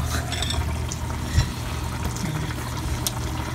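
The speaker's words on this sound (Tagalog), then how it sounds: "Ganyan na ng mainit na tubig galing sa" Hot water poured into a cooking pot of winter melon and minced pork, a steady close liquid rush running throughout with a brief splash near the middle.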